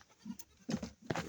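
Domestic goats bleating faintly, two or three short calls a moment apart in a quiet farm setting, with no talking.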